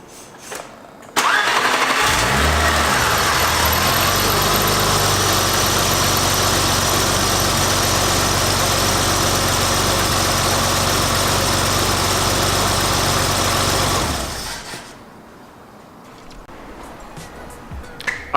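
A BMW E30 engine cranks and catches after a compression test, then runs loudly at a steady idle with a close, even drone for about thirteen seconds before shutting off into quiet.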